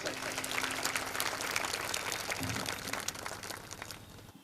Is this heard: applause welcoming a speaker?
yes